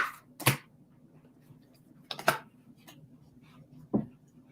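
Tarot cards slapped down on a table in three quick, sharp bursts of papery snapping, near and fairly crisp, with quiet pauses between them and no talk.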